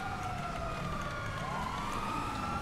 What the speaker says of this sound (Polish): Nie powinien się wyłączyć tych syren.